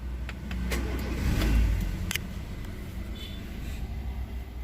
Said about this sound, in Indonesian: kita coba hidupkan dulu mobilnya.